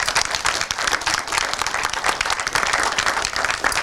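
Loud, dense audience applause fills the hall continuously, a steady wash of many hands clapping with no pauses, following a round of films at a pitching event.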